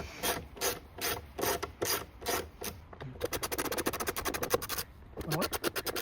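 Ratcheting clicks of a T25 driver unscrewing the screws on the engine air filter case of a 2017 Audi A4, heard as repeated close mechanical rasps and clicks, faster near the end, with no talking.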